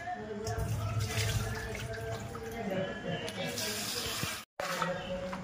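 Prawns are rinsed under running water in a kitchen, a continuous close splash and trickle with faint talk in the background.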